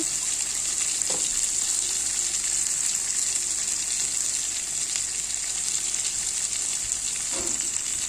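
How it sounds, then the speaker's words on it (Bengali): Potatoes fried until reddened, with spice paste added, hiss in hot oil as a constant close sizzle, with two brief clinks of a utensil against the pan. "আলুটা কিন্তু আমি লাল করে ভেজে নিলাম। এখন মশলা দিয়ে দিব।"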